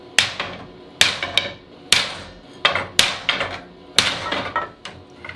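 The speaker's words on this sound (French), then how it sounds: "Et on va essayer avec le marteau." Hammer striking a metal bus or truck part in a series of sharp, loud impacts, several blows in quick bursts with short ringing decays and brief pauses between groups.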